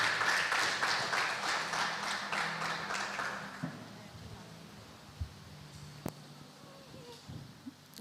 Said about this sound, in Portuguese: Aplauda Jesus mais uma vez aí,